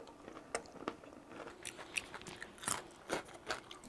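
Close, crisp crunching of someone biting and chewing crispy seasoned fried chicken, irregular crackly bites spaced a moment apart in a quiet room.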